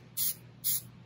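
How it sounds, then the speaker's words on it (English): Two short, loud bursts of an aerosol can spraying flat lacquer onto a furniture piece during wood-stain restoration, each hiss lasting a fraction of a second with a brief gap between. "So you can spray it with flat and bring it back down."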